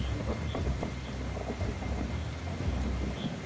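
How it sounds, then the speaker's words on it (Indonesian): Rain falls as a steady hiss with a low rumbling undertone, moderately faint and continuous, with no voices. "Hujan mulai turun. Berhari-hari hujan turun. Hujan dan hujan."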